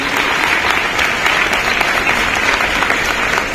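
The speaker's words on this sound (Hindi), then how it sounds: "इसके लिए एक बार जोरदार तालियां" Loud, dense applause from a large crowd, steady and sustained throughout with no pauses.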